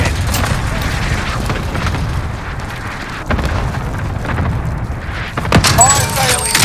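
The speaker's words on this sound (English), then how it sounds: "Bunker strike is active." Bunker strike explosions in Call of Duty Warzone Rebirth, a run of heavy, rumbling booms and blasts close by, continuing under spoken game announcements.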